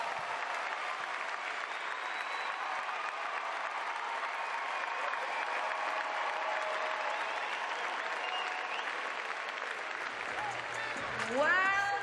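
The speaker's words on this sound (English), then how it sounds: "One more big round of applause for such an exciting battle" Sustained applause from a large arena crowd at a CrossFit Games 2019 event finale, steady and moderately distant across the whole stretch, with a voice briefly cutting in near the end.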